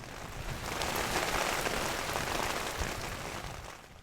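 Steady rain falls as a dense, even hiss of drops striking a surface, swelling slightly and then easing toward the end with no other sounds.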